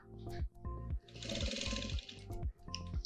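Sewing machine stitching a straight side seam on a small fabric bag, a close, steady whirring run of rapid needle strokes with brief stops and restarts in between, no talking.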